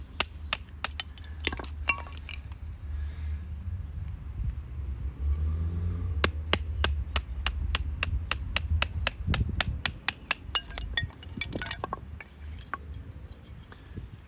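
Firewood being chopped with a double-edged OTF pocket knife outdoors before a braai, a string of sharp woody hacks and knocks, a rapid regular run of strikes in the middle, with no talking.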